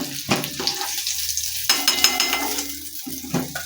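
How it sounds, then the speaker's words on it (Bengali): Potato pieces fry in a pan, giving a close sizzling hiss broken by stirring scrapes and short bursts, steady for about four seconds with no one talking. "আলুটা আমার ভাজা হয়ে গেছে।"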